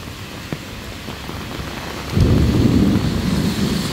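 Heavy rain pours down on Central Park West in New York City, a steady hiss that swells suddenly into a louder, denser roar midway as thunder rumbles low beneath the downpour.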